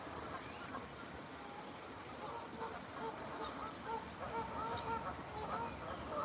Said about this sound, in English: Oh no, it's the geese.